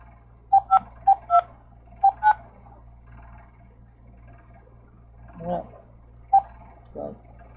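Telephone keypad tones dialing a phone number: a series of short, clear beeps in quick groups, close and isolated, with a few faint handling sounds between them.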